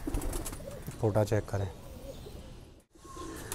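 A pair of pigeons, one a cream-eyed female, gives a few low rhythmic coos mixed with soft bird calls, sitting close under steady talk from a nearby man.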